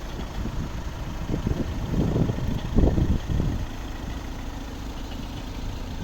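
A 2014 VW Tiguan 2.0 TDI 4x4 automatic diesel idles with a steady low rumble, a few louder low bursts rising in the middle before settling back to an even hum, with no talking.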